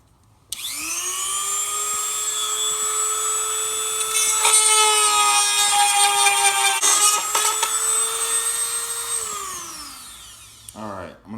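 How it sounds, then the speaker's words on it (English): A power drill with a drill bit whines steadily for about nine seconds while removing a fitting from a custom retrofit headlight, pitch rising as it spins up, with rattling grinding as the bit bites, then winding down. "why I'm using a drill bit instead of something else"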